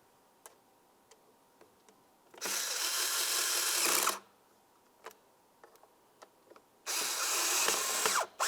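A power tool drives two mounting screws into the air filter housing of a 2003-2011 Mercury Grand Marquis. Two loud, close whirring bursts of about two seconds each are separated by quiet stretches with small clicks and ticks.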